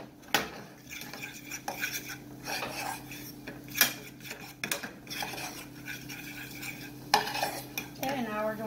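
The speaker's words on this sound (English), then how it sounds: "I like to just add a little bit at a time and mix." Flour is stirred a little at a time into slow cooker potato soup, with close, irregular clinks and scrapes of a utensil against the pot, bursts of mixing separated by brief pauses.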